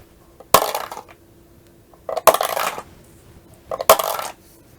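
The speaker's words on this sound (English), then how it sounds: "Go ahead and drop the dice again." Dice dropped onto a board game, three separate clattering bursts a second or more apart, each a sharp hit followed by brief rolling rattles, close and alone.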